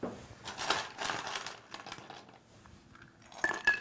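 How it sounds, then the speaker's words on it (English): Ice cubes dropped into an Old Fashioned glass holding a maple and cherry cocktail, giving a few bright clinks and rattles in separate bursts, close and fairly quiet, with no talking. "We'll finish that with a couple more ice cubes."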